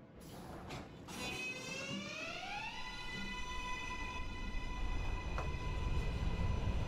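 A Brooklyn-bound NYC subway N Express train in the OpenBVE simulator pulls away, its traction motors whining upward in pitch over rumbling wheels, then holding a steady tone as the noise grows; no talk.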